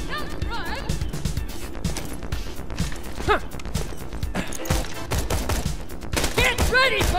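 Rapid bursts of gunfire and explosive impacts in the video game Borderlands 2, dense and continuous throughout, with a voice talking over the combat.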